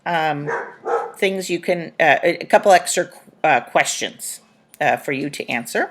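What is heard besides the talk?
dogs barking in the background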